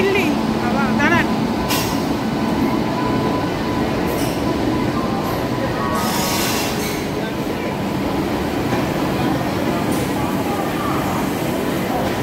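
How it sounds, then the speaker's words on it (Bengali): The Puri Shatabdi Express rolls into a busy station platform with a loud, continuous rumble of wheels and carriages and occasional squeals, while voices chatter nearby on the platform. "এই যে আমাদের ট্রেন প্ল্যাটফর্মে ঢুকছে"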